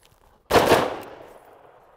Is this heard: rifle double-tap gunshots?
yes